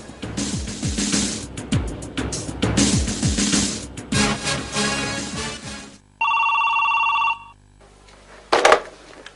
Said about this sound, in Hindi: अबू, आपके लिए फोन।